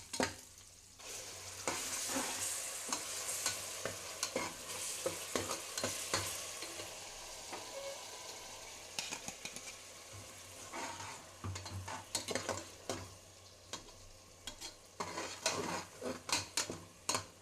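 Tomato paste and ginger paste frying with onions for mutton biryani, a continuous close sizzle broken by frequent scraping stirs and clattering pan knocks, no voices.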